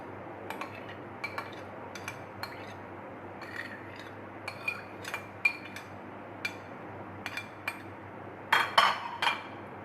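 Eggs being mixed with onion, tomato and green chili in a bowl for an omelette paratha, heard as light, irregular clinks and taps of a utensil against the dish. Near the end comes a louder, faster flurry of scraping.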